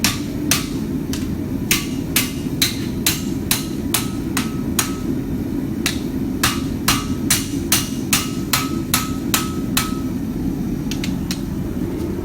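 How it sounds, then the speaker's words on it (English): A hammer strikes a steel chef's knife blade during forging to refine its profile, a steady series of sharp ringing blows, close and loud, over a constant low roar from the forge. "A little bit of profile refining here before we start working the edge."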